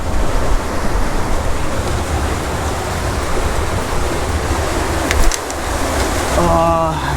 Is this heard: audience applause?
no